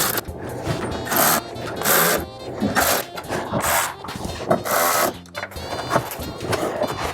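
An electric ratchet whirs in repeated short bursts while tightening bolts on a BMW chassis brace, close and loud, with brief pauses between runs.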